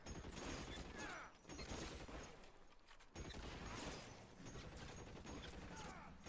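Gunfire rattles through a cinema shootout in L.A. Noire, dense bursts of shots and crashing impacts in loud continuous waves with short pauses between volleys.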